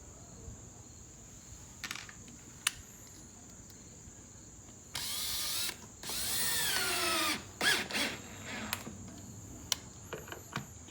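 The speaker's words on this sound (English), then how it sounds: "You can see these screws that I am putting in are significantly longer." A power drill drives long screws into a door jamb in two bursts of whirring, the second longer and rising in pitch, followed by a few short clicks and taps, with a steady high electrical whine running through the background.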